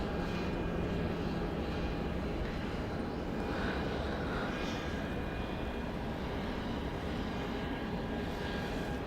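An aircraft at Dallas Love Field airport roars steadily and loudly, a broad sustained engine rumble with a faint whine holding throughout.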